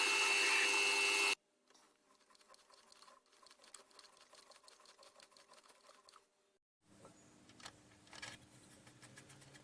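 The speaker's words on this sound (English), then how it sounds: "They are drilled and tapped to be mounted on an arbor." Machine drilling and tapping flanges cut from flat stock in a small workshop: a steady whirring drill run for several seconds, a brief pause, then quieter mechanical running.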